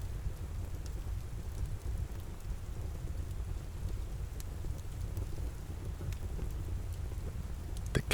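Steady rain falls in a soft, continuous hiss with scattered droplet ticks and a low rumble underneath, even and unbroken throughout.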